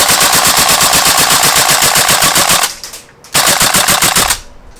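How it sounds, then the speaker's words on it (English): A Tokyo Marui AKM gas blowback airsoft rifle fires in dry fire mode with loud, rapid full-auto clatter, a brief pause near three seconds, then another sustained burst that cuts off. "it's going to keep on firing because I've got it in that dry fire mode"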